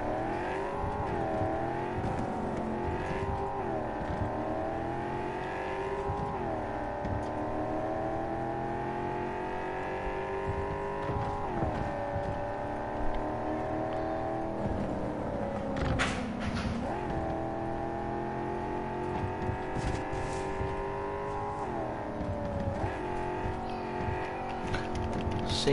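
A car engine in Cyberpunk 2077 roars loud and close, repeatedly revving up and dropping back as it accelerates while the driver loses control, with a brief squeal partway through.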